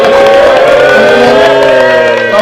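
A crowd at a film press conference in a Jakarta cinema cheers loudly, with sustained, tonal voices over a layer of clapping, close and constant throughout.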